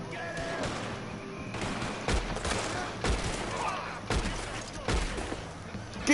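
Shotgun blasts in Red Dead Redemption 2 go off as repeated sharp, loud bangs about every second amid chaotic game gunfire, with a voice talking over the action.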